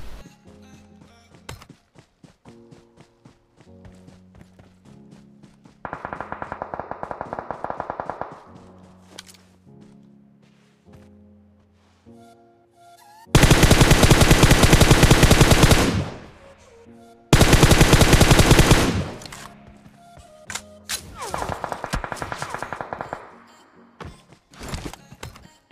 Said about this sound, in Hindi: लेफ्ट साइड से मुझे फायरिंग की आवाज़ सुनाई देती है